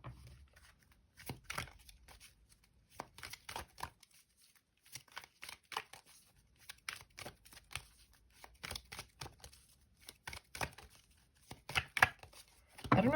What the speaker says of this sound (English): I don't know why I'm shuffling this deck still.